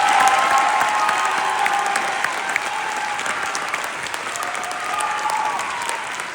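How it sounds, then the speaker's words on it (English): Concert audience applauding a student band at a school winter concert, loud sustained clapping from a full crowd with faint cheers, steady throughout. "let's give these students a big round of applause for all their hard work this year."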